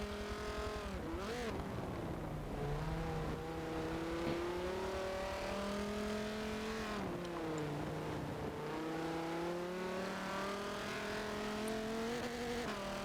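A race car engine during an endurance race at the Nürburgring Nordschleife, revving through repeated upshifts, with pitch climbing then dropping at each gear change, a loud continuous howl without talk.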